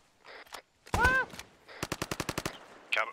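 Machine gun fire in a video game, with a single heavy shot near the start followed by a rapid, evenly spaced burst of about eight rounds, loud and close.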